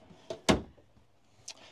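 Deep drawers in a 2024 Alliance Avenue 29RL travel trailer slide and bump shut. Several close, distinct knocks: a small tap, then a louder thud, and a softer clack a second later, with no talk.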